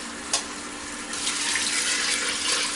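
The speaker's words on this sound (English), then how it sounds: "So I'm going to just pour my water in that." Water seasoned with pepper and scallion is poured into a pressure cooker while making curry goat, a steady splashing pour that swells after a second and continues evenly to the end, close and alone.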